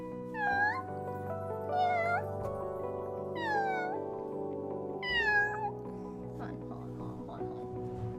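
A cat meows four times in a row, each a clear rising-then-falling cry, close by, over a steady background hum.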